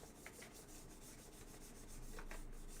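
Quick back-and-forth scrubbing with a small toothbrush on an old upright vacuum, a rapid raspy rhythm, quiet and close.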